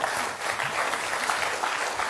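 Studio audience applauding during a Georgian televised comedy contest show, a steady, dense clapping that fills the whole moment with no speech over it.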